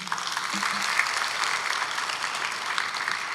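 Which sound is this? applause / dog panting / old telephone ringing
applause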